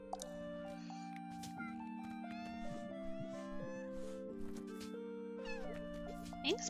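A cat meows several times in the cozy life-sim video game Cozy Grove, with short rising calls over a steady, looping game music bed.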